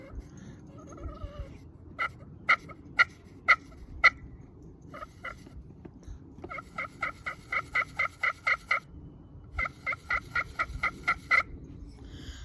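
A Beaver Creek turkey call is worked to produce crisp, slightly raspy yelps in quick rhythmic runs: a spaced series of five or six, then two longer strings of rapid notes, close and clear against quiet background.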